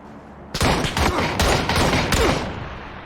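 Gunfire from the battle royale game PUBG, a loud burst of rapid overlapping shots starting abruptly and tailing off after a few seconds, with no talk.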